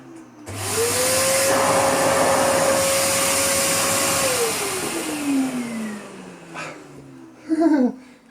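A Karcher T9/1Bp vacuum cleaner fitted with a powered turbohead, running on deep-pile carpet: a loud, steady motor whine spins up, holds for several seconds, then winds down in pitch, with a brief clatter at the end.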